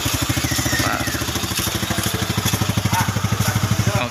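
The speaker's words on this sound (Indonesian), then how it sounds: "Bentar, ada motor lewat." A nearby motorcycle engine runs in a steady, rapid thumping pulse for the whole stretch, loud and close, beside a vineyard alley where imported grape grafts grow in Banjarsari.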